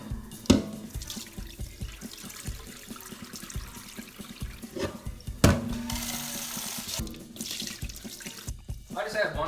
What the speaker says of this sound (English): first of all, you need to sharpen the rice, or basically wash the rice.